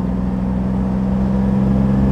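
A 1965 Mercedes 300 SE Cabriolet engine idling smoothly, a loud, steady low hum with an even drone and no change in pace.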